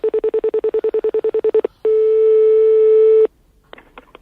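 A telephone line plays a rapid run of short busy-signal beeps, then a steady dial tone for about a second and a half, followed by a few faint dialing clicks and tones, heard alone with no talk.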